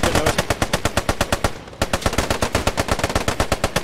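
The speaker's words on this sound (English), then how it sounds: "I think my squad is shooting up" Machine gun fire in the World War II shooter Post Scriptum, a rapid, evenly spaced stream of loud shots with one brief pause before the burst resumes.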